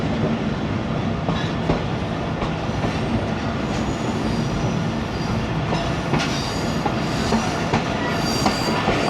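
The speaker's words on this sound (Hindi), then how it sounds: "अब मेलसी रेलवे स्टेशन में दाखिल हो रहे हैं" Fareed Express passenger train rolling into Mailsi railway station in rural Punjab, heard from inside the carriage as a loud, continuous rumble and rattle of wheels on track, with faint metallic squeals.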